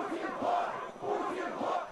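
Opposition protesters at a Moscow rally chant slogans in unison, a crowd's rhythmic shouted phrases rising and falling in repeated waves, heard from some distance.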